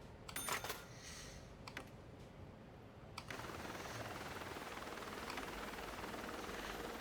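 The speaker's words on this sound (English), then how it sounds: "I would say that one helicopter is going to be enough for this." A helicopter in the Cities in Motion transit-building game whirs steadily at low level, preceded by a few sharp clicks and taps, then settling into a continuous rotor-like drone that fills the rest of the stretch.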